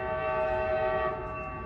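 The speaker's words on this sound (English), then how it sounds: "here comes Amtrak San Joaquin bound train 714" Amtrak San Joaquin train 714 arriving at Oakland Jack London Square station, its horn sounding loud and close as a sustained, chord-like blast over the rumble of the moving train.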